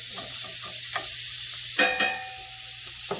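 Half a teaspoon of garlic sautés in a pan for a surf-and-turf meal, giving a quiet, steady sizzle with a couple of sharp metallic clinks and taps partway through.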